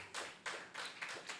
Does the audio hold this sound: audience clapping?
yes